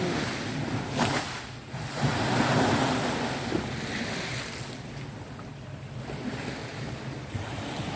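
Strong sea waves at a fishing pier in Pattaya, Thailand, a continuous rough wash of surf mixed with gusty wind buffeting the microphone, swelling and easing without any talk.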